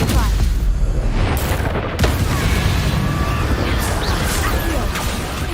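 Stupefy spell blasts cast in the video game Hogwarts Legacy, heard as repeated booming, gunfire-like impacts over a dense, continuous game soundscape, loud and steady with sharp bursts.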